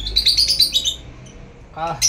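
A quick run of high, bright lovebird chirps repeating in bursts, then a voice speaks briefly at the end.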